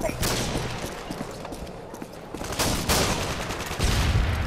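Shotgun blasts and other weapon fire in a Modern Warfare 2 multiplayer match, heavy dense bursts packed closely together throughout, with loud booming hits near the end and a shouting voice over the action.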